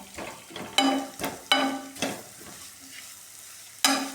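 Raw turmeric roasting in a pan while a spoon stirs it, with repeated clanking strokes against the pan over a steady sizzle, close and moderately loud.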